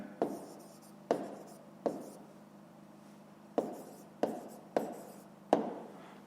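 Pen or pencil writing by hand on paper, a close sequence of short scratchy strokes, each starting with a light tap and fading, in an irregular rhythm with short pauses.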